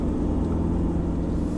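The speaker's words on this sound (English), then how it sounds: "it is a diesel, and it sounds like a diesel" A 2021 Mitsubishi Triton Athlete diesel pickup on the road, its engine a steady low rumble mixed with road and cabin noise, continuous and close with no talking.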